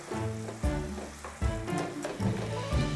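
Beef steak sizzles in a pan as a teriyaki sauce glaze bubbles around it, a loud steady frying hiss broken by several heavy thumps and scrapes of the meat being moved.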